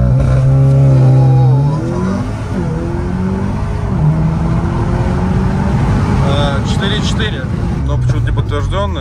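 A VW Golf R tuned to over 400 horsepower, with a full tank and two people aboard, accelerates hard, its loud engine note climbing and dropping through several gear changes while people talk.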